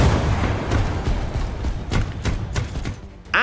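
Booming blasts from a tank's active protection system in War Thunder, a series of loud thuds and bangs over a dense rumbling battlefield background, with a sharp burst near the end.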